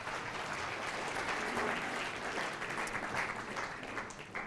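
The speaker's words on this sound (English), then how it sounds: "round of applause for our volunteers" Steady, dense applause from a live science-talk audience for on-stage volunteers, sustained and even throughout with no pauses, close and full.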